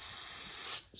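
Carburetor cleaning fluid sprays in a steady close hiss from the bottom of a snow blower carburetor for most of a second, then cuts off with a brief second puff.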